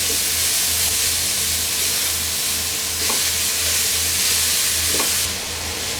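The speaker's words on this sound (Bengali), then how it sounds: "নেড়ে চেড়ে ভাজবো যাতে সবজিগুলো নরম হওয়া পর্যন্ত সিদ্ধ হবে না" Vegetables for a Bangladeshi-style Chinese chow mein, including capsicum, sizzle steadily in a hot pan as they are stirred, with a constant close frying hiss and occasional scraping knocks, with no voices.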